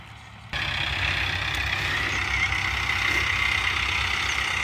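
Arjun tractor with a company-fitted turbo, its engine running steadily with a low, continuous rumble and broadband roar that starts abruptly and holds at a constant loud level out in the fields.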